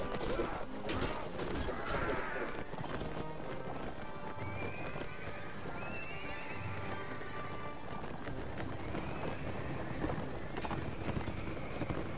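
Horse hooves clip-clop and gallop during a Mount & Blade: Warband battle, mixed with a horse's whinny, clashing combat and crowd noise that run steadily throughout.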